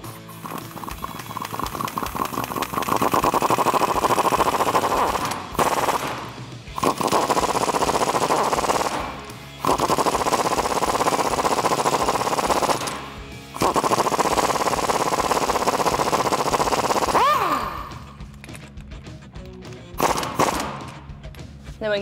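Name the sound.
power tool tightening Jeep suspension bolts with 15mm swivel socket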